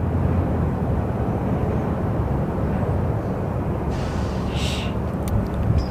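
A Sun Country Airlines airplane at Phoenix Sky Harbor airport gives off a steady, broad jet roar that holds at an even level from start to finish, heard from a distance outdoors.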